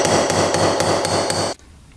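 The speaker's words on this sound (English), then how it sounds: "What we can do is take a socket and just pound that around." A socket is hammered against a crank seal on a rare two-stroke dirt bike, six sharp metallic strikes in an even rhythm, loud and close, ending abruptly into quiet.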